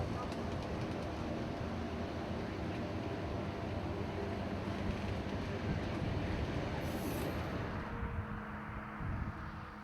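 Amtrak passenger train 92 rolls through a small-town station, a loud continuous rumble of wheels and cars filling the whole stretch, easing off slightly toward the end.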